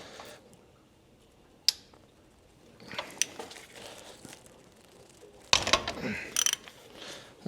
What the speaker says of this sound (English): I have to use 1/2 inch ratchet. I'm not tightening it, I'm loosening it